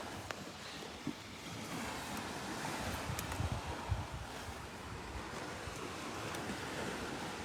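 Waves washing on the shore of the Sea of Galilee, a steady low wash of surf with wind buffeting the microphone throughout, a few brief knocks, and no one speaking.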